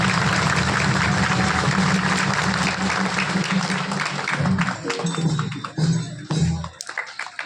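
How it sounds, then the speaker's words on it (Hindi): Loud, dense applause from an audience at a 50th-anniversary association celebration in Lodi, sustained and near before thinning into scattered claps and fading out at the end. "सभी लोग एक बार जोरदार ताली बजाएंगे।"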